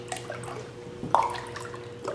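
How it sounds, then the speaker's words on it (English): Boxed stock poured into a soup pot for chicken soup, a soft steady liquid pour with faint drips and one brief louder splash, close and without talk. "Let's pour it over here. I try not to splash."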